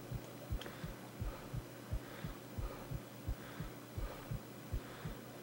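A steady, low heartbeat from Sniper Ghost Warrior 2 thumps in an even, quickened rhythm, about a dozen beats over a constant hum with no voices.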